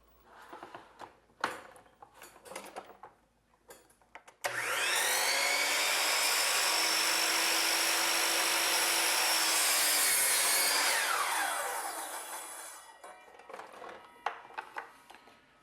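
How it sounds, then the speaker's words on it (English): A miter saw cuts a miter on wooden casing molding in one loud, sustained pass lasting about eight seconds. The motor whines up and winds down at the end, with quieter handling clicks before and after. "I swing the saw and I cut a miter on this end."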